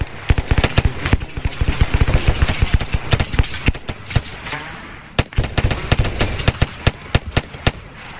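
Rapid gunfire during a Special Forces joint training operation, loud and close, with dense bursts and single sharp shots repeating steadily throughout.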